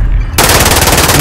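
Loud, rapid automatic gunfire bursts in at close range in Call of Duty: Modern Warfare after a brief quieter moment, continuing as a sustained stream of shots.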